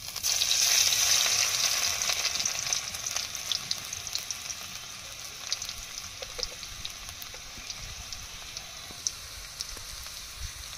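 Black cumin seeds tempering in hot oil crackle and sizzle loudly at first, then settle into a lighter, steady frying hiss with scattered small pops, heard up close with no voices.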